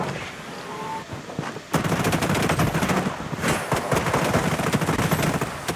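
Shots in the shooter game Project BloodStrike ring out as loud, close, repeated gunfire over several seconds, dense cracks layered over a steady noisy background with no talk.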